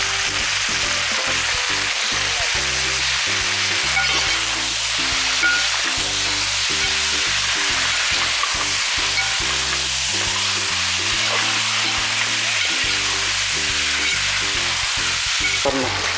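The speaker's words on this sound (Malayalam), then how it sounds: "1 മണിക്കൂറോളം മാരിനേറ്റ് വെച്ചിട്ടുള്ള ചിക്കൻ ഇതിലേക്ക് ആഡ് ചെയ്ത് കൊടുക്കാം" Marinated chicken for Hyderabadi chicken dum biryani sizzles and fries in a hot pan, a loud steady crackle running without pause, with low rhythmic rumbling beneath and no talking.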